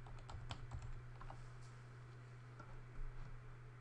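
A password goes in on a computer keyboard in an office setting, a quick run of light, close key taps in uneven bursts over a steady low electrical hum.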